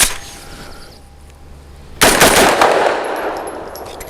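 An Extar EP9 Gen 2 pistol fires a single sharp, loud shot after a quiet pause, followed by a ringing decay. The gun is running an older Korean magazine.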